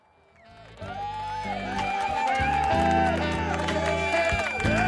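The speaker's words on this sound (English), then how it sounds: "Little round of applause for Tina there." Canned applause and cheering sound effect, rising from a quiet start into a loud, full crowd with whoops that runs steadily to the end, with a voice mixed in.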